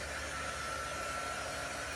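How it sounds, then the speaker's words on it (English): A hair dryer blows hot air to dry glitter chalk paste, giving a steady continuous whooshing hum with a faint motor whine, unbroken and close, with no voices. "what I'm going to do is I'm going to use our dryer"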